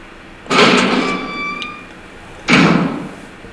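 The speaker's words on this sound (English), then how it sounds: "Come back through the door." Two door sounds in the Resident Evil 1 video game, a door opening with a thudding creak and then closing two seconds later, close and alone.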